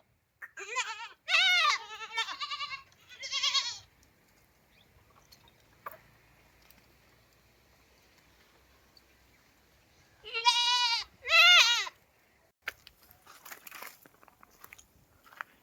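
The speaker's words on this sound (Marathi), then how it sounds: "एवढे सारे आमचे हे बकरीचे पिल्ले तुम्हाला पाहायला मिळत असेल." Young goat kids bleat from a goat shed on a village farm, with two clusters of several close, loud, wavering cries separated by a quiet stretch holding faint shuffling and a few small knocks.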